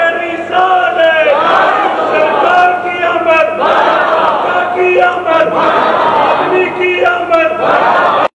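A large religious procession crowd chants slogans in loud, rhythmic call-and-response bursts, many voices shouting together in repeated waves close by.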